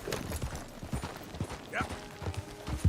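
Horse hooves clop rhythmically at a steady gallop in Red Dead Redemption 2, with fairly quiet thuds and a brief faint whinny-like sound midway.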